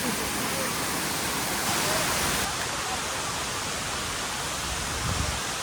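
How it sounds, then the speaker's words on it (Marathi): A monsoon waterfall on the Khandas to Bhimashankar trek pours with a constant, full rushing roar that holds steady and close throughout. "आपण त्या धबधब्यावर पोहोचले मंडळी सगळी हातपाय इकडे धुवून घेतात"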